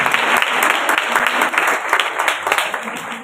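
Congregation at a Hindi-Punjabi church healing service claps loudly and continuously, a thick wash of applause with scattered sharp claps.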